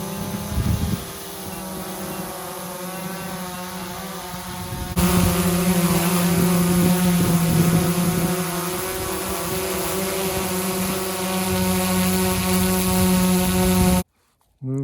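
A drone flies in Ukraine with a steady buzzing propeller whine that shifts in pitch and loudness as it moves overhead, then cuts off abruptly near the end.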